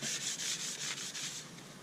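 Sandpaper on an oak and resin platter turning on a lathe makes a close, rhythmic rasping hiss in quick repeated strokes, with no speech.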